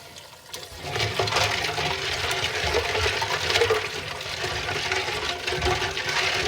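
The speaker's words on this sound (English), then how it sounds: "I take that same pan we just used, which is still hot, and I put ice in it." Loud continuous sizzling and crackling hiss as ice hits a hot pan, steady throughout with bubbling underneath.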